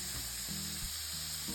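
Green beans frying in a hot pan during fried rice preparation, a steady close sizzle over a low hum with a few faint stirring scrapes, no speech.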